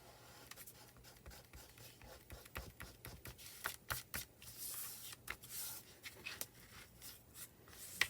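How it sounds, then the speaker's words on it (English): An eraser rubs out pencil marks on paper in a run of quick, faint scratchy strokes that come in irregular bursts, with no talking over them. "erase the pencil marks"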